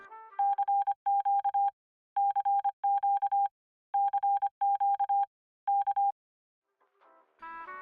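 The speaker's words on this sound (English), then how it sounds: "These numbers are followed by widely varying lengths of Morse code." Beeping Morse-style code tones from the Fallout 3 numbers station radio broadcast in the video game, clear steady pitched bursts in irregular groups with short gaps, alone and fairly loud, ending in a brief burst of other sound.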